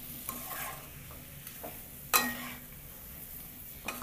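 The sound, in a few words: stirring pepper chicken in a frying pan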